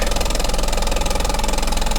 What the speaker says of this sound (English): we've built up enough of a head of steam to actually get the steam piston over here to work.